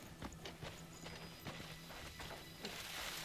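Horse hooves clip-clopping in the video game Crimson Desert, a steady run of hoof strikes over light ambient game sound.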